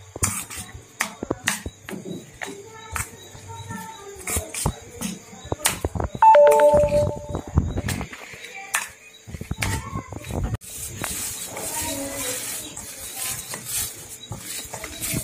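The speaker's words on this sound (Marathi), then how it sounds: "आता हे जे पीठ आहे हे आपल्याला मळून घ्यायचं व्यवस्थित, मऊ मळायचं।" Hot rice bhajani flour dough being mixed and kneaded by hand, heard as irregular clinks, scrapes and dull knocks against a vessel, with quieter squishy handling in between and a denser stretch of movement toward the end.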